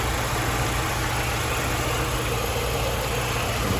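A 1995 Volkswagen Cabrio engine idles with a steady, even hum and faint vibration, running smoothly and close by, with no voices.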